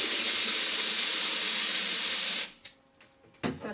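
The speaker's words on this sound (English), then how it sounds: "I'm going to take my little air compressor here and just blow them up this way because it's fast" A small air compressor blowing air into a balloon for a balloon garland, a loud steady hiss that stops abruptly, followed by a few faint handling sounds.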